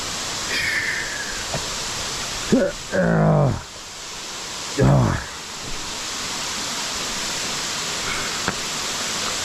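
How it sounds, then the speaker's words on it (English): Waterfall tumbling beside a big cliff on Mt. Lafayette, a steady broad rushing hiss that fills the whole stretch, with a couple of short spoken bursts breaking in over it. "Look at that waterfall."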